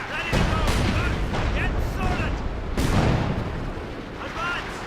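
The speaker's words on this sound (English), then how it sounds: "A lot of artillery coming my way." Artillery fire from the World War II strategy game Company of Heroes, with heavy booming blasts rolling in under a continuous dense battle din, two big impacts standing out, while a voice talks over the chaos.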